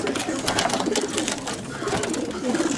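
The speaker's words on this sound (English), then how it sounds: "This is what it's about. Pigeons. Homers." Racing homer pigeons coo softly and repeatedly in a loft, low rhythmic calls under a steady background hiss, with no one speaking.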